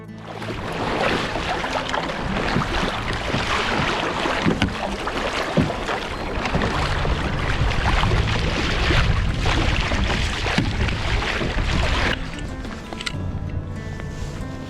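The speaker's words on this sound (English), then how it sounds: "The swell is just too much." Heavy sea swell breaks along the East Lothian shore in a loud, continuous roar of surf. Strong wind buffets the microphone throughout.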